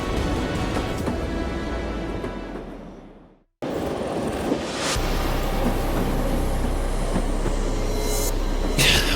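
A train rumbles along its rails with a loud, continuous roar and rattle, cut off briefly for a moment, then resuming with squealing and whooshing noise, no voices.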